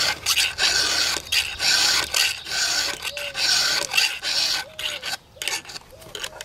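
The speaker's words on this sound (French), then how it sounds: "Les maillons gauches seront affûtés." A hand file rasps across chainsaw chain teeth in steady, repeated strokes, up close and loud, sharpening the cutters of a tree pruner's saw, with a few brief pauses between passes and no talking.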